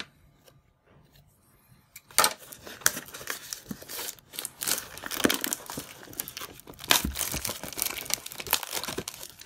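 Old scissors cut open the plastic wrap and cardboard of a 2021 Topps Holiday Mega Box of trading cards, a close, steady run of crinkling, snipping and tearing that starts softly and grows busier.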